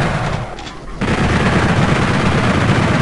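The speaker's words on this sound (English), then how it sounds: "Lots of soldiers in here, so we're going to shoot our way through here really quick." Rapid gunfire in the video game Doom 64 as soldiers are shot down in a maze area, a loud dense burst of blasts after a brief dip near the start, with no talk over it.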